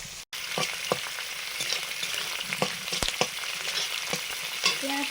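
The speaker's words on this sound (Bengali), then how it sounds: "পেঁয়াজটা হালকা ভাজা হয়েছে" Chopped onions frying in a pan of hot oil for a spicy Bengali home dish, a steady close sizzle broken by scattered clicks and scrapes of stirring, with no talk over it.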